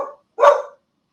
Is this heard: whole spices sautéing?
no